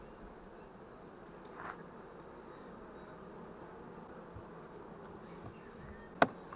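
Honeybees swarm around comb frames of a hive while it is treated against mites, a steady close buzz of many bees droning evenly throughout, with one sharp click near the end.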